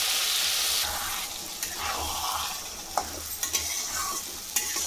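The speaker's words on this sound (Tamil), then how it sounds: "அரைச்ச துவையில் வதங்கட்டும்" Ground ridge gourd chutney sautéing in hot oil with mustard seeds, a steady close sizzle with a few scraping stir clicks and spoon knocks, no talking.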